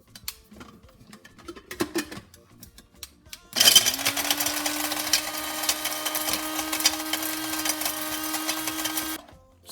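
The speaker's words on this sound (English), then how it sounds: "And now I'm adding 1 Knorr cube, and I'm just going to blend it dry." A blender whirs dry peanuts with a Knorr stock cube: a few soft clicks, then the motor starts abruptly and runs loud and steady, with a constant whine, for about six seconds before cutting off.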